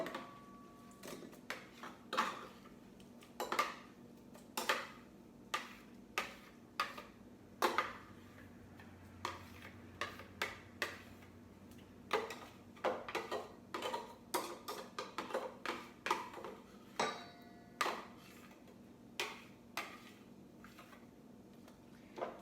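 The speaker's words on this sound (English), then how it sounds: "I will put the leaves back in the mixing bowl" Spinach leaves moved from a food processor into a mixing bowl: a long, faint series of irregular soft taps, rustles and clicks in a quiet kitchen, with no talk.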